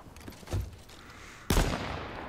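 Gunfire in the video game H1Z1, two separate bursts of shots roughly a second apart, the second louder and trailing into a sustained rumble, with no talking.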